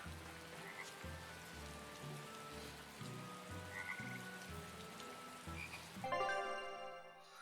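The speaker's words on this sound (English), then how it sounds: "I hear a frog." A frog croaks in steady, evenly spaced bursts over soft rain, set in the video game Tales of Berseria, with a brief brighter chiming tone near the end.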